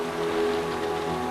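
Rain falling in a steady, even hiss of drops on surfaces, continuous and moderately loud, with a low tonal hum underneath and no voices.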